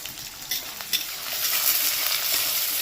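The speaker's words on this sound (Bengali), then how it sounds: "পেঁয়াজটাকে একটু ভেজে নেবো ভালো করে" Chopped onions, four medium ones, frying in a pan for a mint chicken dish, giving a steady close hiss of sizzling oil with a few brief stirring scrapes and clinks, louder toward the end.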